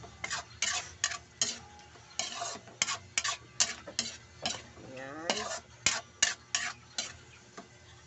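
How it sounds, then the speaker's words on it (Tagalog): Escabeche being stirred in a pan, a rhythmic series of spatula scrapes and clinks over a soft sizzle, close and distinct, with no speech. "Haluin po natin."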